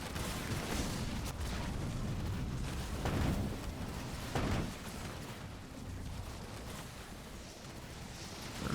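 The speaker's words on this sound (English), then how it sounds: "that shield generator just got nuked" Shield generator nuked in Halo Wars 2, heard as a few deep explosive bursts that stand out from a busy, fairly quiet battle soundscape with no talk.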